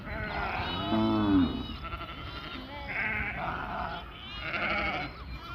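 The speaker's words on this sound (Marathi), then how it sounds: "मेंढर भरपूर आहेत बघा व्हाईट पण आहेत का ब्लॅक कलरची शेळी पण आहे ओरडत आहेत" Several sheep and a black goat bleat in quick succession nearby, overlapping wavering cries from a small flock.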